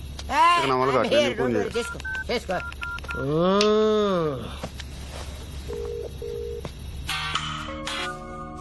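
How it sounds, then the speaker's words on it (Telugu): A phone keypad beeps out a series of dialing tones, with speech and a rising, warbling voice-like sound mixed in around them. "నేను దానికి ఫోన్ చేసేస్తాను భయ్యా."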